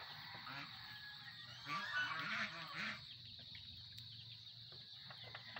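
Farm ducks honk in a short, faint burst of nasal calls at a distance, with a steady insect-like hiss and low background murmur throughout.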